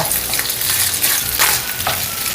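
Chili con carne seasoning mix is stirred into water in a pan, giving a close, continuous swishing and scraping with a few sharper strokes.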